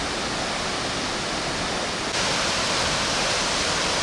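Kiat Oak waterfall on the Bolaven Plateau rushing in a dense, steady roar that fills the air without a break, loud and close, with no voices.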